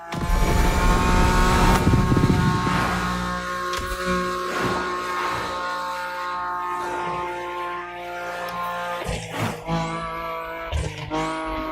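A Lamborghini Murcielago in an open-world racing game, its engine roaring loud and close with high revs, shifting pitch as it accelerates and lifts, brief tire squeal near the end.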